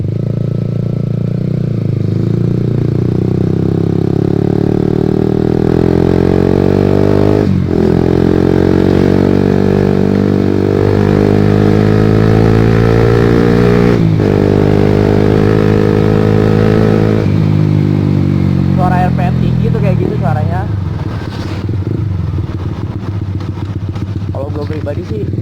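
A Honda CB150R motorcycle fitted with a Pro Liner carbon long exhaust rides at steady low-to-mid revs for the whole clip, with a loud, droning, close exhaust note and brief dips where the rider shifts gears.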